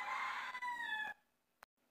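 A rooster crows once nearby, a loud drawn-out call that cuts off abruptly, followed by near silence and a brief faint click.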